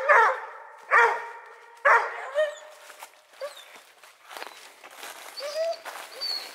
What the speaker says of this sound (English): She just kind of barked once or twice and let out a locate and started treeing.